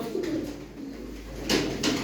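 Pigeons coo in low, soft, throaty murmurs, close by, with a rustle of flapping or movement near the end.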